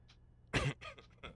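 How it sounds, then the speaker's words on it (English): A live esports commentator coughs and clears his throat during a Counter-Strike match broadcast, one loud harsh burst followed by a few shorter rough throat sounds, close to the mic with no speech. "I have some whiskey to try to stop the coughing."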